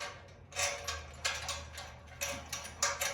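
Screw being driven in with a washer to fit a Silverline roof ladder hook: faint, close ticking and ratcheting clicks in an irregular rhythm.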